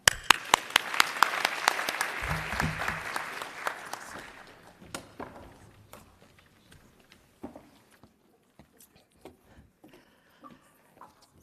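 Conference plenary audience applauding the translators: dense clapping swells for about four seconds, then thins out into scattered single claps and a few footsteps in a large room.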